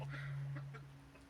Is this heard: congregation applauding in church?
no